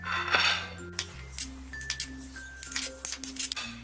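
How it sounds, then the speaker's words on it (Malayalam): Diced salad vegetables and plum tipped into a glass bowl, giving a run of light clinks and taps on glass with a low steady hum underneath, no talking. "ഈ വെജിറ്റബിൾസ് എല്ലാം ഇതിലേക്ക് ഇട്ട് കൊടുക്കാം"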